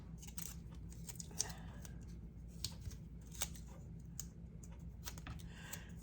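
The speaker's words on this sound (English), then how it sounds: "let me cut 4 strips and get those down." Scissors snipping paper strips for a scrapbooking box project, a quiet series of small crisp cuts and clicks close by, irregularly spaced over a low background hum.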